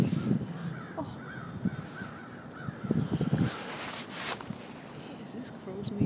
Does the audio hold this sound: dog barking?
no